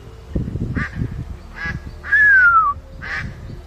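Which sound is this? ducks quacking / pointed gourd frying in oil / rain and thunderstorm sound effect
ducks quacking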